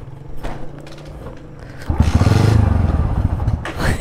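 A faulty motorcycle engine sputters and idles unevenly, then roughly revs up with rattling mechanical noise, close by, with a brief voice in the background.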